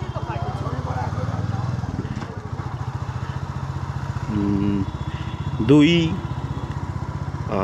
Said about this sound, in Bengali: কারণ আমি তো এখন বাইক চালাচ্ছি